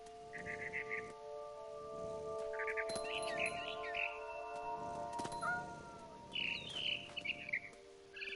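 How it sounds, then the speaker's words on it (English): Birds chirping in the video game What Remains of Edith Finch, several short bright tweets scattered over a faint ambient background with steady tones and a few soft clicks. "All I cared about was eating that mama bird."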